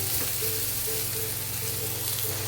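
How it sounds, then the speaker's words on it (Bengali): Green chillies and garlic cloves fry in hot oil with a constant, dense crackle and hiss, close by and steady, and no one speaks. "তিনটে কাঁচা লঙ্কা ফাটিয়ে দিয়ে দিলাম আর রসুনের কোয়াগুলোও দিয়ে দিলাম দিয়ে ভালো করে ভেজে নেব"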